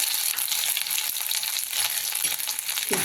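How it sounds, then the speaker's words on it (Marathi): Ginger, garlic and coriander paste hits hot oil with cumin seeds for a bitter gourd curry, giving a steady, loud, close sizzle and crackle that holds throughout without any talk. "आता आपण ही पेस्ट टाकून घेऊ आलं लसूण कोथिंबीर पेस्ट"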